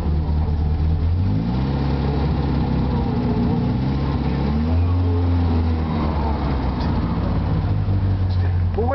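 A 1965 Volvo engine idles steadily once warmed up, a loud, continuous low rumble with shifting harmonic tones through the whole stretch and no one talking.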